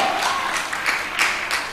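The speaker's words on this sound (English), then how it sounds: "Clap louder!" Audience clapping at a national youth camp: a steady, dense wash of applause from a crowd, fairly loud and sustained, with a few swells and no talk over it.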